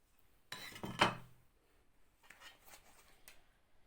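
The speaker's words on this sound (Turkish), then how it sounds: "Sıradaki ürünümüz Kevgir kepçesi" A skimmer ladle handled up close, giving a sharp metallic clatter and scrape followed by a few softer, lighter clinks in an otherwise quiet room.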